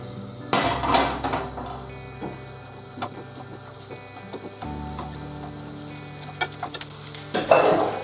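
Spicy meatballs fry in a pan while being turned and moved around, with steady sizzling broken by clattering scrapes and knocks of a utensil against the pan, loudest near the start and end.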